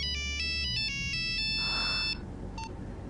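A telephone ringtone plays a bright electronic melody that repeats for about two seconds and then cuts off, followed by a short beep under a low background hum.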